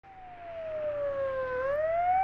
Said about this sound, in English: lights on and siren blaring